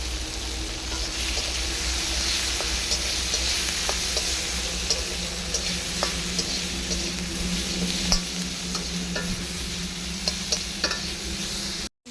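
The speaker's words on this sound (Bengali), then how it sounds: "এখন নাড়াচাড়া করবো" Onion, tomato and vegetables stirred while frying in a pan on a clay stove, a steady close sizzle broken by repeated scraping stir strokes, no voices, ending abruptly.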